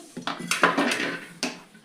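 Dishes and pots being washed in a home kitchen, giving a few close clatters and metallic knocks of utensils, a brief cluster then one more clank, with no talk.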